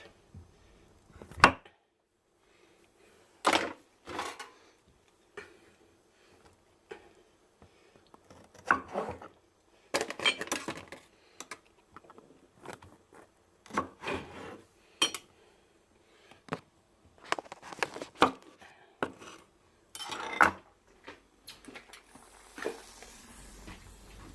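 A knife slices food in half on a board, making a series of separate chops and clinks at irregular intervals, close and fairly quiet against near silence.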